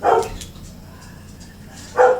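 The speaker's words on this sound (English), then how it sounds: "That's my dogs. Somebody's driving up next door" Dogs barking at a car arriving next door: two loud, close barks, one at the start and one near the end, separated by a quieter stretch of faint background noise.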